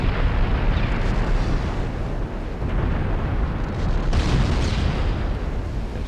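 A heavy, rumbling blast as an ammunition flash fire erupts aboard the warship Aegir in Ultimate Admiral Dreadnoughts, loud and sustained with booming bursts and a second surge of explosion roar partway through.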